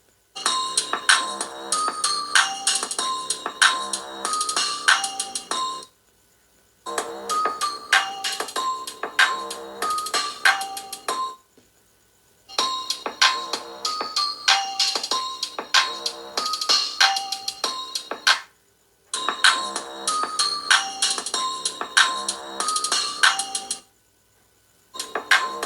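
Poco F3, Poco X3 GT and Poco X3 Pro phones take turns playing a bright chiming ringtone-like melody through their stereo speakers, each segment separated by brief silences, loud and clear with no talking.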